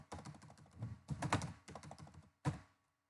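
Code is typed on a computer keyboard in a burst of close, quick clicking keystrokes with short pauses, ending in a firm final tap before quiet.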